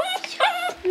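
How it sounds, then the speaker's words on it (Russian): Dog whimpering indoors, a string of close, high, wavering whines and small yips coming in short bursts. "Она прям скулит."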